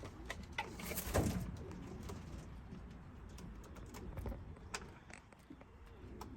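Racing pigeons returning to the loft after a young-bird race coo softly and intermittently against faint outdoor noise, with scattered light taps and rustles and no talking.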